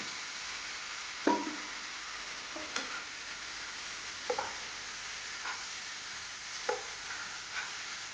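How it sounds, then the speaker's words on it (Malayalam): Ground masala and curry leaves stir-fried in coconut oil for a dried prawn dish, with a soft constant sizzle broken by a few sharp spoon scrapes and taps against the pan. "ഇനി അതേ വെളിച്ചെണ്ണയിലേക്ക് നമ്മൾ നേരത്തെ അരച്ച് വെച്ചിട്ടുള്ള മിക്സ് ചേർത്ത് കൊടുക്കാം"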